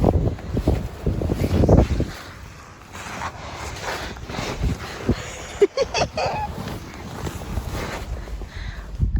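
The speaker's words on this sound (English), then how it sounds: "As you can hear, it's windy" Gusts of wind buffet the microphone outdoors, loud rumbling bursts early on that ease into a softer, uneven rush.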